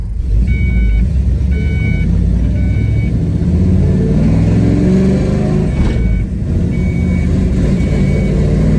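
A Ford F-150 pickup with a swapped T5 manual transmission, engine cold, drives down a road with a steady low engine drone, while intermittent high beeps chime early on and a faint tone persists throughout.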